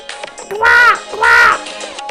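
A crow gives two loud, harsh caws in quick succession, close and clear, each one drawn out with a rasping, nasal tone.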